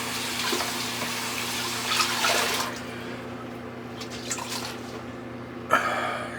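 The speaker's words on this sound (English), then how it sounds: "I'll use the tepid that's coming out of the faucet" Tepid water running from a faucet in a bathroom during a shave, a steady close hiss and splash of flowing water that carries on throughout with small surges in volume.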